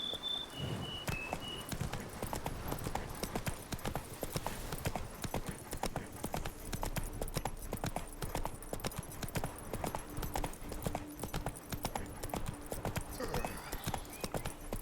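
Steady clip-clop of hooves from Geralt's horse Roach in the video game The Witcher 3, a brisk even rhythm that runs the whole time at close range.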